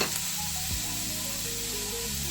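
Capsicum sizzles in a pan with fried onions, a steady close crackling fry with a stir-like scrape early on, no talking.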